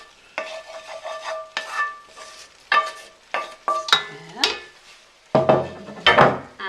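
Barley orzotto with mushrooms stirred in a pan, irregular clinks and scrapes of a utensil against the pan over a light sizzle, close and with no talking.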